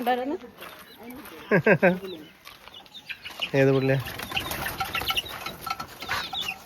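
Chickens cluck and squawk nearby in short bursts while people talk over them, with some rustling and flapping in the background.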